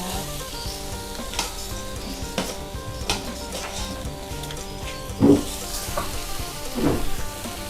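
Steady sizzle of homemade pork intestine sausage grilling, a continuous crackling hiss with occasional louder pops and scraping, close and fairly loud with no talk.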